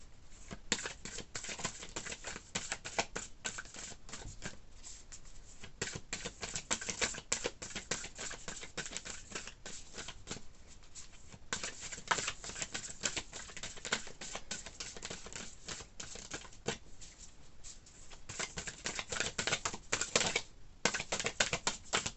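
Large tarot cards being shuffled by hand, making a continuous close, dry patter of quick riffling flutters and flicks with brief pauses between bursts.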